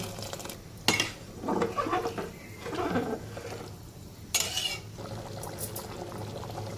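Water poured into rice in a pressure cooker for prawn rice on a kitchen gas stove: a steady close liquid pour with two sharper splashing surges, alongside faint pot clatter.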